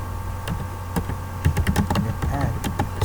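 Computer keyboard being typed on while entering a git command: a near, irregular burst of crisp key clicks, sparse at first and then quicker, with no talk.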